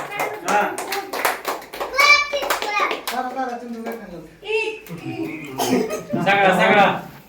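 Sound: people clapping after singing Happy Birthday

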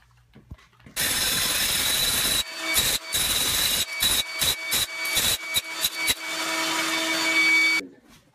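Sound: Makita power tool with wide bit removing thin-set mortar

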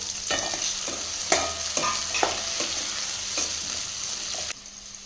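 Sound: onions and tomatoes sautéing in a pan

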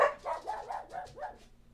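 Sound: dogs barking

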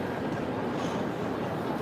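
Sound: train station in Milan

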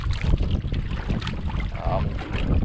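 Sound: strong wind outdoors on a fishing boat

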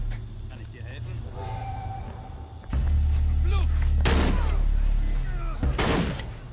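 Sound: gunfire, Shadow of the Tomb Raider video game

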